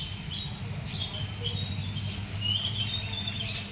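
Myna birds chirp and chatter in bright, scattered bursts over a low steady rumble, fairly close, with a few overlapping calls and a faint voice underneath.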